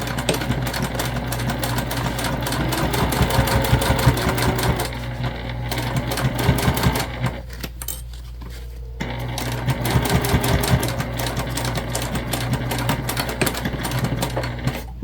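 A sewing machine basts a crossbody bag piece onto the side, its needle chattering in fast continuous bursts close by, with a brief pause midway before it runs again.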